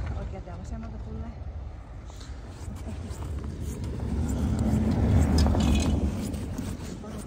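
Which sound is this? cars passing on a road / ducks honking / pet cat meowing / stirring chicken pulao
cars passing on a road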